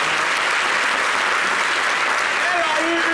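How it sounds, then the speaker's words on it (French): Steady studio audience applause on an Ivorian television talk show, dense and continuous clapping throughout with a faint tonal sound rising near the end. "On applaudit pour elle."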